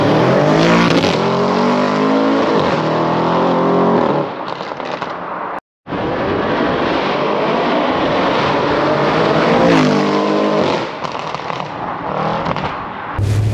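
A stage 2 Audi RS6 engine roars loudly and close while accelerating hard, with rising gear pulls, a brief cut near the middle and another surge afterward.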